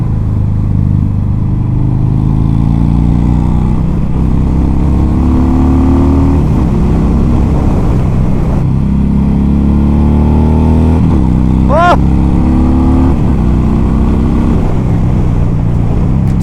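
A 2019 Harley-Davidson Fat Bob 114 V-twin motorcycle accelerates hard on an open road, its loud deep engine note rising through the gears with wind rush, recorded close and continuous.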